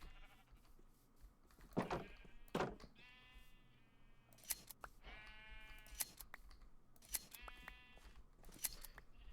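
Minecraft sheep bleating repeatedly in the video game while a blue sheep is sheared, several short wavering bleats mixed with quick snipping clicks, fairly faint.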